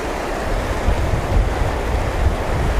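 Wind buffets an open microphone on an exposed shore-fishing mark at Doniford and Helwell Bay, UK, with heavy low rumbling gusts over steady surf hiss, loud and unbroken throughout.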